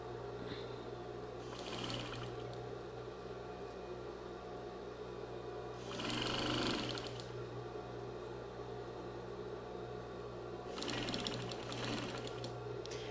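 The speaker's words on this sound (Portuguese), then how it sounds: "Aí eu venho e costuro aqui, ó. Desço a volta toda." A sewing machine stitches around the curved edge of a fabric bathroom set in short bursts, with quiet gaps between runs, under a constant low hum.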